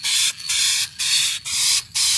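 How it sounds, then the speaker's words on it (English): Aerosol rattle can sprays paint onto a rusted Chevy GMT800 truck rocker panel in four steady hissing bursts with short pauses, close and loud. "The first step for spraying anything is to do a light coat."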